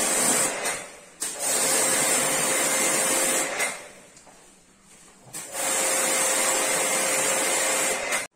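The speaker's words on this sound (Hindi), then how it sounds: "इसके अंदर प्रेशर मार के जो इसकी जो गंदगी है वो नीचे आ रही है बाल्टी में" A pressure washer sprays water through an air conditioner unit being serviced, giving a loud hissing spray in long bursts broken by short pauses and one quieter lull.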